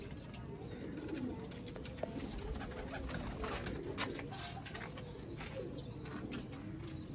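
A pair of Sialkoti pigeons coo softly and repeatedly, close by, over a faint steady background hiss.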